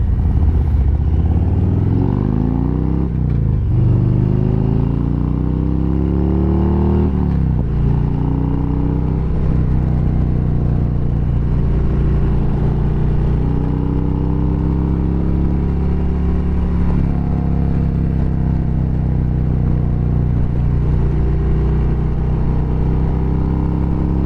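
A Harley-Davidson motorcycle engine idles steadily and loud throughout, with a few brief revs and clattery knocks rising over its low rumble.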